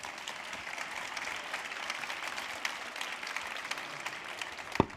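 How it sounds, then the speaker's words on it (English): An audience at a youth programme awards ceremony applauds steadily, a dense sustained patter of many hands clapping at moderate loudness throughout, with no speech over it. "please give a round of applause to everybody"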